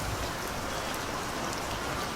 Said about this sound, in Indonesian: Desa kami memang tak pernah berhenti diguyur hujan.